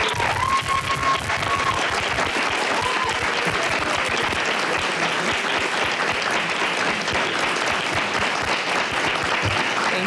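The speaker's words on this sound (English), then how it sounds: "Thank you for giving a round of applause to my family, to my better half." An audience at a King County Council District 8 swearing-in ceremony claps in sustained, dense applause for about ten seconds, steady and fairly loud throughout.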